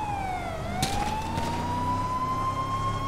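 A police car siren in the video game GTA 5 wails steadily and loudly, its pitch dipping and rising through a continuous sweep with engine rumble beneath, and a brief crash partway through.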